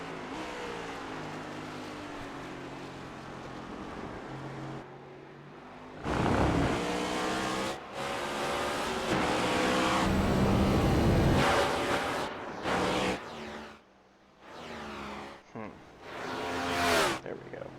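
Race cars during the GEARS Chase Race at Road America, engines droning, revving and surging past in waves, loud at times and fading at others, with a commentator talking over them.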